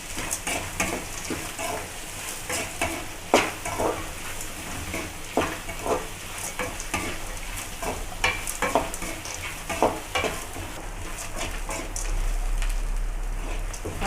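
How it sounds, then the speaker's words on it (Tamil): Onions sautéing in a pan with a continuous crackling sizzle and frequent spatula scrapes and taps, close and fairly loud, no one speaking. "பாருங்கள், வெங்காயம் நல்லா வதங்கிச்சு."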